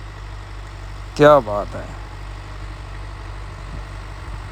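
A large Deluxe 385 tractor pulling a double planter through a field runs with a steady low engine drone that continues throughout, while someone briefly speaks over it.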